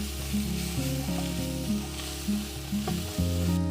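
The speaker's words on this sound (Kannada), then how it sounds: "ಈಗ ಮತ್ತೆ ಇವೆಲ್ಲವನ್ನು ಮಿಕ್ಸ್ ಮಾಡಿಕೊಂಡು ಫ್ರೈ ಮಾಡ್ಕೋಬೇಕು." Mutton pulao masala fried in a pan with pepper powder gives a steady, close sizzle, with stirring scrapes mixed in and no talking.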